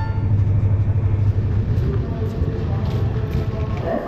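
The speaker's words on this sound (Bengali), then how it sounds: "এখানে ট্রেন চলে এলো" A train rolls into Gaya station in Bihar, a loud, low rumble that gradually eases with faint clatter on top.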